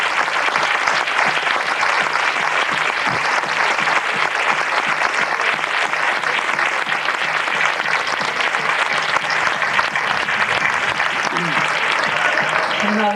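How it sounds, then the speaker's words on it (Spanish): Sustained, loud applause from a theatre audience for a trio of female dancers after an Aragonese jota folk performance, steady dense clapping filling the whole stretch without a break. "Un fuertísimo aplauso para ellas."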